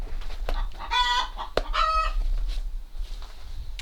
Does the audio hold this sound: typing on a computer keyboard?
no